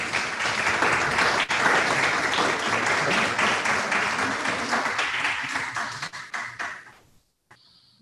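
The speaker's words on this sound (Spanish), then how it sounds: "Un aplauso, por favor." An audience at a solemn municipal council session applauding in a sustained, full burst of clapping that slowly thins out and falls away to near silence at the end.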